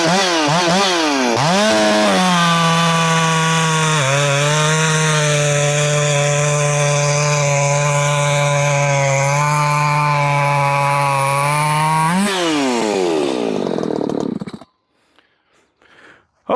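Ported Echo 620 chainsaw screams up to full throttle, holds a steady high-pitched whine for about ten seconds, then drops back down and cuts off, loud and close with no talking.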